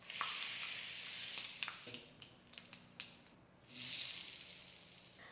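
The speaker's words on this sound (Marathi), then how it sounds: "गरम गरम फोडणी चटणीवर घालूया." Hot mustard seed tempering with asafoetida and curry leaves poured over coconut chutney, a loud close sizzle that fades midway with a few clinks, then flares up again strongly and hisses steadily to the end.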